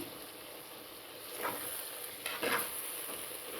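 A pan of curry is stirred after ginger-garlic paste and chili powder go in, giving soft, intermittent scraping strokes over a faint, steady sizzle, with two brief louder scrapes and no talking.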